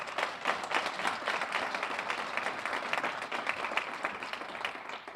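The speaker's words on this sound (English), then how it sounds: "let's give a round of applause for the Mayor Foundation" Audience at a philanthropy program welcoming the hosting foundation with applause: steady, dense clapping from a crowd, moderately distant and fairly quiet, sustained evenly throughout without any speech.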